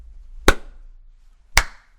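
Two crisp, close hand claps, spaced about a second apart in a quiet room, each a lone sharp crack made to line up a recording.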